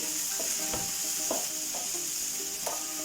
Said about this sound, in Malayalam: ഈ എണ്ണയിൽ തന്നെ നമുക്ക് ചെറിയ ഉള്ളിയും കൂടി വഴറ്റി കൊടുക്കാം.